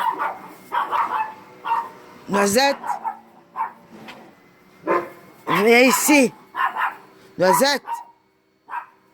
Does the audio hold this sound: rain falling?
no